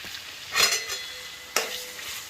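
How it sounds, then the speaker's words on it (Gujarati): Already-fried potatoes tipped into a hot pan for an aloo palak dish, giving two short bursts of sizzling with stirring scrapes, one at the start and one midway, fading into a soft fry in between. "આપણા ઓલરેડી પહેલેથી ફ્રાય કરેલા પોટાટો અંદર નાખી દઈશું"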